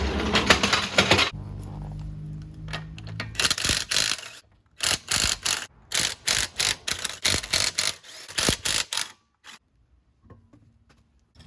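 Sway bar end links being fitted on a 2016 Mazda 3, a run of sharp metallic ratcheting bursts and clicks from hand tools, close and fairly loud, in rapid clusters with brief pauses.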